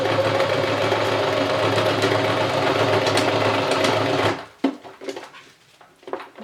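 A sewing machine stitches a homemade recycled fabric face mask, running in a fast steady mechanical whir, then stops abruptly, leaving a few light clicks and handling sounds.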